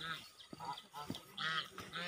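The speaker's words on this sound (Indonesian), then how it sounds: "Nah, ini angsa atau soang sahabat." A goose gives several nasal honks in short bursts, close by and moderately loud, with a voice briefly audible between calls outdoors on a countryside footpath.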